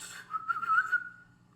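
A voice imitates little whistles with a series of short, high whistled chirps that rise and trill over about a second, then fade, close and moderately loud with no talk.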